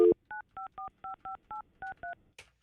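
Telephone keypad dialing tones while placing a call on a morning show: nine short, evenly spaced DTMF beeps, clear and fairly quiet, with a brief click at the start and a faint noise at the end.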